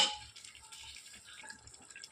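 Hot water poured into a pot of mutton masala for biryani, a soft close trickle and splashing with dripping, fairly quiet and steady.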